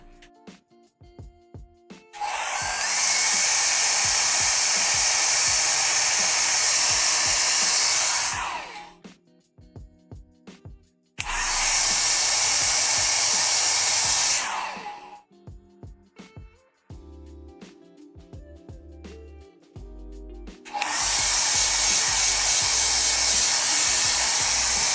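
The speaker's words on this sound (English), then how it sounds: "should we do a little hair dry?" A hair dryer blasts in three long bursts of several seconds each, drying paint on a Warhammer 40k Avatar of Khaine miniature, loud and close, with quiet gaps of handling noise between the bursts.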